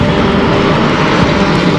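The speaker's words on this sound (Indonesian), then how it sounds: "Saat ini parade pesawat terbang masih berlangsung" French military aircraft fly over a Bastille Day parade, producing a loud, unbroken engine roar that holds steady throughout without any voices.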